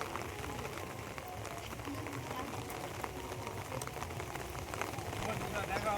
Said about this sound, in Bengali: এখনও কিন্তু ভালোই বৃষ্টি হচ্ছে